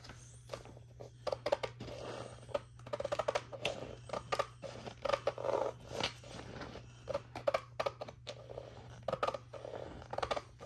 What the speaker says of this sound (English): I will cut along that line with scissors